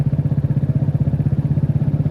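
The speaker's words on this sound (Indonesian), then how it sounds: "Ini mobil motor campur di sini semua jadi satu nih." A close motorcycle engine idles in a rapid, steady pulsing throb while queued with cars and motorbikes in a long traffic jam at night, with no talk.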